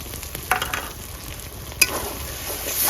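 Turmeric frying in a pan with ginger-garlic paste for a chicken dish, a soft continuous sizzle with a few brief stirring scrapes, fairly quiet and close, with no talking.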